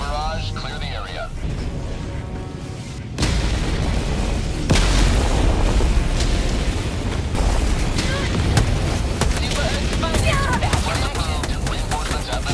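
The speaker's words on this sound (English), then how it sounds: "Firing orbital barrage, clear the area." An orbital barrage strikes in the video game, with a sudden loud onset of rolling booms and continuous rumbling blasts that last several seconds while a voice speaks over the first part.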